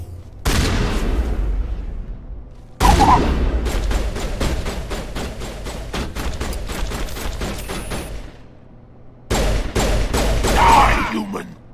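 Rapid bursts of weapon fire from a new gun in the Mass Effect Legendary Edition video game, three loud close volleys of sharp repeated shots separated by brief pauses.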